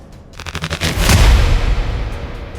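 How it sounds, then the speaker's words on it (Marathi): Sea mine exploding, a short run of rapid booming bursts building into one loud, heavy blast that rumbles and slowly fades, with no voices. "समुद्रात कुठेतरी शांतपणे पडलेल्या काही माइन्सचा स्फोट झाला."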